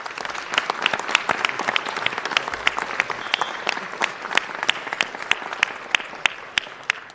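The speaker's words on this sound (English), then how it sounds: "Let's please give him a round of applause." City council meeting audience applauding an honoree, dense steady clapping with sharp individual claps standing out, sustained throughout at moderate distance.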